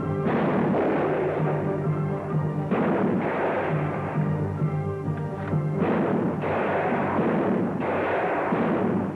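Gunfire from a Western film scene, a sustained barrage of loud overlapping shots and booming reports with short breaks between bursts, no talk.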